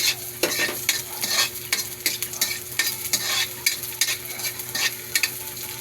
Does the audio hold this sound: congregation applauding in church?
no